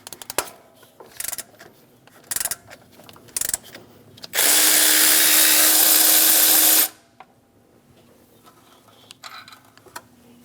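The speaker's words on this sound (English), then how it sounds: "Using a 15mm socket, we're going to remove the 2 bolts for our tensioner." A power tool fitted with a 15mm socket spins out belt tensioner bolts on a Chevrolet Express 2500 van. Scattered clicks and clanks lead into one loud, steady whirring run of about two seconds, and then quieter handling noises follow.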